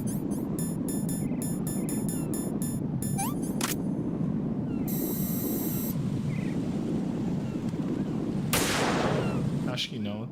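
Gunfire in the Metal Gear Solid 2: Sons of Liberty video game, shooting through a flag, heard as a loud, steady, noisy rumble with a few sharp bursts and a brief whooshing sweep near the end.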